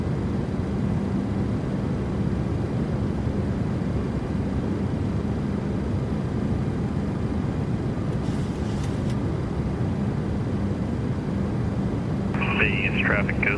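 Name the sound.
airplane sounds in flight simulator video game, PMDG 737-700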